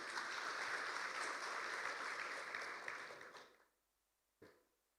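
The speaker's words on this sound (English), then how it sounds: "Give him a big applause, please." Applause for the Indonesian ambassador to ASEAN at an ASEAN youth creative meeting at Universitas Andalas: a sustained crowd clapping that fades out, followed by one isolated sharp clap.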